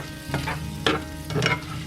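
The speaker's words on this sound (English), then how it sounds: "I'm going to go ahead and add my sausage in, kielbasa. Going to stir these around and brown them up." Kielbasa sausage browns in a pan, sizzling softly while it is stirred, with a few scraping strokes close by.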